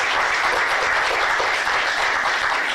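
Sustained audience applause fills a lecture hall after a talk by a former nuclear regulatory chairman, with steady dense clapping throughout and no speech.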